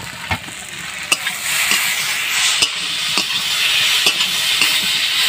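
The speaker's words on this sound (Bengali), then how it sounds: "ভালো করে সবজিটা কষে দিচ্ছি" Vegetables with potatoes are stirred and fried in a pan, making a steady close sizzle broken by several sharp scraping knocks of a spoon against the pan.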